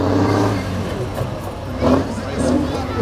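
A Tatra 813 military truck revs its engine hard while climbing a hill off-road, a loud, continuous low growl that swells and surges in waves throughout.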